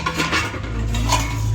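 Spoons and ladles clink and rattle as they are set into the cutlery area of a Bosch 14 place setting dishwasher rack, with brief metallic taps close by over a low steady hum.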